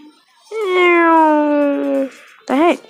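A cat meows inside a video game: one long, steady drawn-out meow followed by a short rising-falling second meow, both loud and close, with no talk over them.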